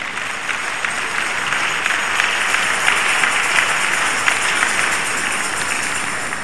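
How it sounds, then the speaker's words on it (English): A lecture audience applauds at length, many hands clapping in a dense, steady wash with no break for the full stretch, loud and close. "Please, a round of applause for them."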